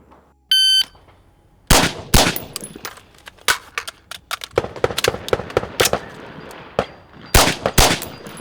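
Gunshots in a four aces night vision shooting drill: a shot-timer beep, then loud close shots in quick pairs, a pause for a reload and another fast pair, crisp and sharp against quiet.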